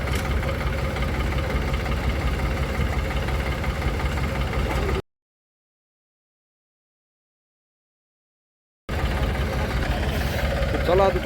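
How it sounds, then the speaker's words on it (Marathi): A tractor engine runs steadily at a low, even throb after being pulled out of mud, heard before and after a silent gap of several seconds. "ट्रॅक्टर बाहेर निघालेला आहे."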